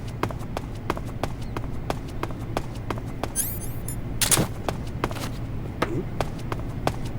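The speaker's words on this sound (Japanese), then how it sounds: "足音だ。" Footsteps in Metal Gear Solid 3 tap out a steady, evenly spaced rhythm of sharp, close steps over a low game hum, with a brief burst of other in-game noise partway through.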